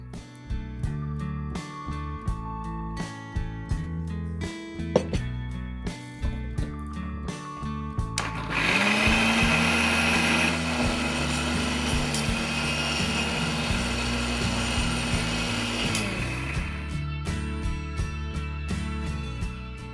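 A mixer grinder grinding lentils with a little water whirs loudly for several seconds in the middle, starting abruptly and cutting off, with kitchen clatter and background hum around it.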